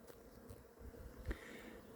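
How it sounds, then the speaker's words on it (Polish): Faint, steady buzzing of many honeybees at an apiary hive in March, a low hum with occasional closer passes. "jak widać, pszczoły nadal sobie pracują."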